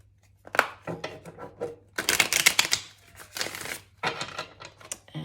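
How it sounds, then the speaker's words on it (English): A deck of tarot cards is shuffled in several quick riffling bursts, close and crisp, separated by short pauses. "we'll do one last shuffle"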